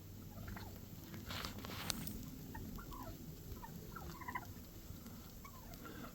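Wild turkeys gobble in the woods during a snowstorm, several rippling calls rising over a steady windy hiss, moderately distant and fairly faint.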